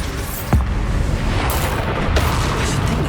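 A spell blast in the video game Hogwarts Legacy during a Graphorn boss fight: a sudden loud boom lands over a constant rumbling battle din, followed by a few more crackling impacts, with no talk.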